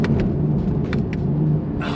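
Engine of a 2017 Honda NSX supercar heard from inside the cabin, a loud steady rumbling drone with a few brief clicks and a hiss near the end.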